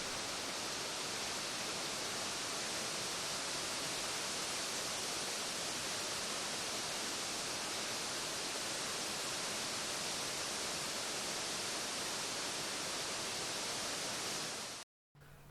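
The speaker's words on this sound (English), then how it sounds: "Some more footage of the waterfall seen earlier." Steady roaring rush of a waterfall filmed from close by, loud broadband water noise running unbroken for about fifteen seconds before cutting off abruptly near the end.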